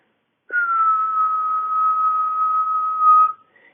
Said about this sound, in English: And now, a high-pitched sound.